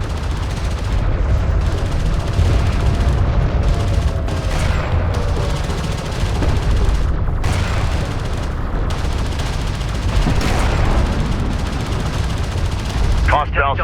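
Gunfire and explosions in Homeworld: Deserts of Kharak, loud continuous rattling shots and heavy booms throughout, with radio-style unit voices speaking over the battle.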